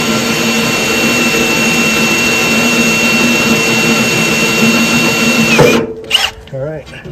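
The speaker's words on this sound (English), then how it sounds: "3/4 inch diameter is the final biggest hole I can drill with this step drill" A power drill with a step drill boring a 3/4 inch hole through steel whines steadily at high pitch for several seconds, loud and close, then cuts off abruptly as a voice begins speaking.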